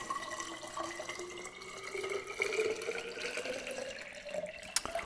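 Water running from a tap into a flower vase, a steady close-up pour whose pitch rises as the vessel fills, with a small clunk near the end.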